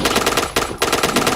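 Rapid automatic gunfire from a Counter-Strike match, loud continuous bursts of shots with a brief gap in the middle, no talking.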